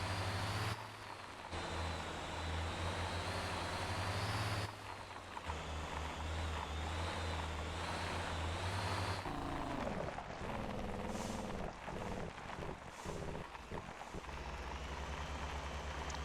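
A heavy truck hauling iron ore climbs uphill in Motor Town: Behind The Wheel, with a steady loud engine drone that shifts pitch when gears change and ends in rougher revving.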